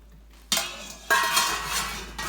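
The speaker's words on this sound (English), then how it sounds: "We then give that a stir." A pot of pasta e fagioli with vegetable stock being stirred, two bursts of scraping and sloshing spoon-against-pot noise, fairly close and alone, followed by a short third stir at the end.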